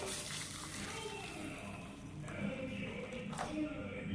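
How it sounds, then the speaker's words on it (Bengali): Hot milk pours into a bowl of sugar in a steady liquid stream, a soft continuous rushing pour that fades slightly toward the end. "দুধ ঢেলে নিচ্ছে।"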